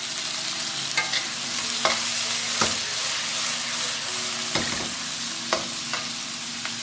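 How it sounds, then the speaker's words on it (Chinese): Ginger, scallion and garlic stir-fried in a little oil, followed by water chestnut, for a beef dish: steady sizzling with repeated scraping and clacking strokes of a spatula against the wok, no talk. "咁啊姜葱蒜先爆香佢啦，其實姜葱蒜香咗之後咧就落菜馬啦"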